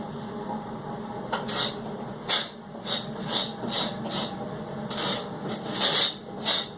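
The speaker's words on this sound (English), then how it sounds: "I just have to sand this a little bit" Rhythmic hand sanding of varnish off a wooden boat floor, a series of short raspy strokes spaced about half a second to a second apart, fairly quiet and close over a steady background hiss.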